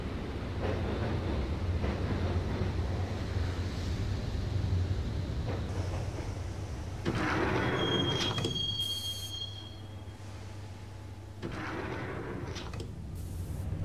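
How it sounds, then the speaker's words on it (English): A subway train ride in the Max Payne video game: a continuous rumble of wheels on track with metallic squeals and clanks, shifting in intensity as the carriage moves, heard up close without speech. "the train doors had already shut behind me, and I was in for the ride."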